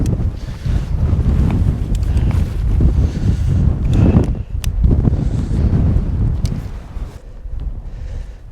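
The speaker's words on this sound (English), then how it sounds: "the wind's not that bad, it's just good practice for the windier mornings" Strong wind gusts buffet a winter campsite, roaring steadily and loudly across the microphone in rolling surges with no voices.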